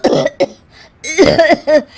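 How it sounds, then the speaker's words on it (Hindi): Several harsh coughs in quick bursts, close and loud, with short pauses between them. "दोनों खांसने लगती है।"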